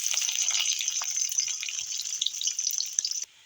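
Sliced onions sizzle in hot oil in a kadai, a steady, close crackling hiss that cuts off abruptly near the end.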